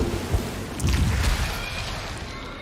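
Blood blister explosion in a video game, a deep rumbling boom that swells around the first second and then settles into a steady crackling hiss, like storm rain, with no talk.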